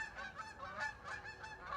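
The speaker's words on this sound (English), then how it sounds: "As all these geese fly through." Geese honk repeatedly as a flock flies overhead, a string of nasal calls overlapping at moderate distance with no talking.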